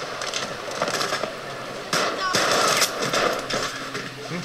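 Gunfire in the multiplayer video game Battlefield V, rapid automatic bursts and sharp cracks that layer over a dense, noisy battle backdrop and grow louder and thicker partway through.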